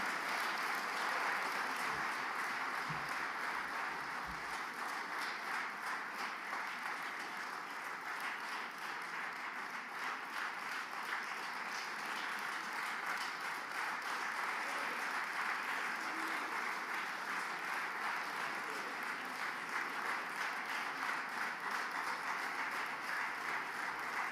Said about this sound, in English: I would like us to give a loud round of applause to Honorable Sheikh Kavi